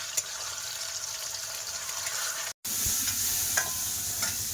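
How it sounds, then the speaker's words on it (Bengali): Pointed gourd frying in a pan in a home kitchen, a steady hiss of sizzling oil with brief stirring scrapes and a short break partway through. "সাথে পটলটাও ভাজছে।"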